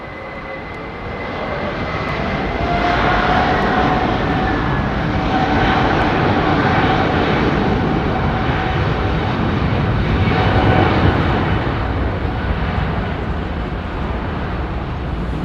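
Airbus A330 airliner passing at London Heathrow Airport, a loud, steady jet engine roar that swells and holds throughout, with no voices.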